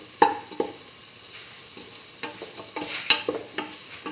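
Asafoetida powder being stirred into a hot pan of oil with chili powder for a chayote and green peas rice dish: a steady sizzle with a few sharp spoon clinks and scrapes against the pan, no voices.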